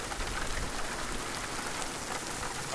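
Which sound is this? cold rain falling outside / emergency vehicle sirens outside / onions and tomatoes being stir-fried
cold rain falling outside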